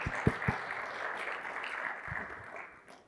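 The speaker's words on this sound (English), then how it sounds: "give a big round of applause to welcome Kasi for accelerating work with end-to-end automation" Audience clapping welcoming a speaker onstage at a talk on end-to-end work automation, a steady spread of hand claps with a few sharper individual claps near the start, fading out toward the end with no one speaking.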